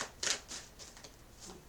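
Faint, quick riffling bursts of playing cards being shuffled, a few short flurries close to the microphone in a quiet room.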